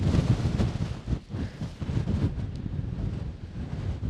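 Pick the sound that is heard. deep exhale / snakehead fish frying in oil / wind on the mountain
wind on the mountain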